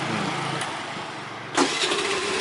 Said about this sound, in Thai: กดสตาร์ทให้ดูอีกรอบนึงครับ